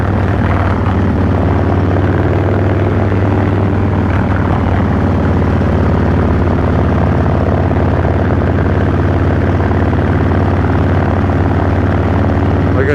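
Motorcycle with a Stage 1 breather on a night ride, giving a loud, constant low engine drone with a steady rumble and rushing wind, alone with no talking.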